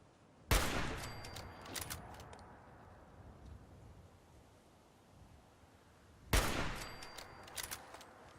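Gunfire in Fallout 4, two separate loud bursts about six seconds apart, each a sharp broadband blast followed by a trailing echo and a few scattered follow-up shots fading into a low ambient rumble.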